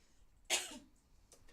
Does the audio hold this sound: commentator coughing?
yes